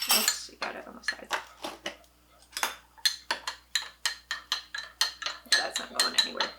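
A spoon clinks rhythmically against the sides of a cup while stirring instant coffee, producing a steady run of bright, close metallic taps with a brief pause partway through.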